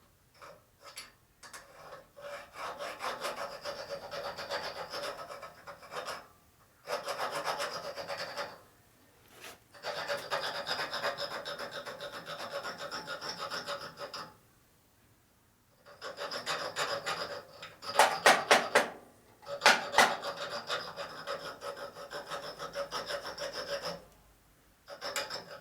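A file rasps on metal on a 1941-72 Harley WL motorcycle clutch cable and top motor mount part, with rhythmic back-and-forth strokes in bursts of several seconds separated by short pauses, close and fairly loud.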